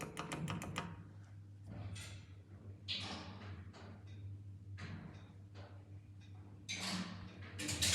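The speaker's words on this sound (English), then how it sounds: "It's got clicky buttons." Buttons of an old Otis hydraulic elevator in a hotel in Toledo, Spain, give a run of sharp, faint mechanical clicks and taps, some in quick bursts, over a quiet low hum.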